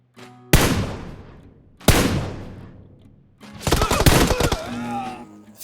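Two sharp gunshots ring out with a short pause between them in BGMI (PUBG Mobile) gameplay, followed by a rapid burst of firing, loud and close.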